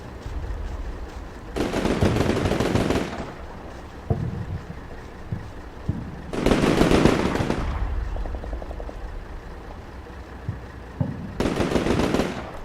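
Machine gun fire from the video game Combat Mission Shock Force 2, heard as three loud sustained bursts spaced several seconds apart, with faint scattered pops and a steady low rumble of background noise between them.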